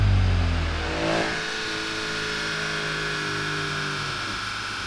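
A 2020 Corvette Stingray 6.2L engine with a JLT intake drones steadily on a dyno at a held pitch, with a louder surge in the first second before settling into a constant mechanical roar.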